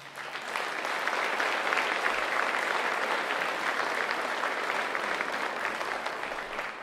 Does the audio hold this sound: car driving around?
no